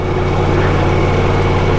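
A Ducati Multistrada V4 motorcycle engine holds high revs while riding through deep flood water, a loud, steady, close drone with constant low rumble and no pauses or speech.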